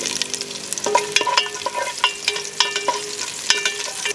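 Ginger sautéing in a pan for arroz caldo de negro, an ongoing sizzle with frequent crisp stirring clicks and scrapes, close up, no one speaking.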